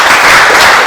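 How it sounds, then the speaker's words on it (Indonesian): Applause from a class of students, a brief burst of dense, steady clapping heard up close with no talking. "Tepuk tangan."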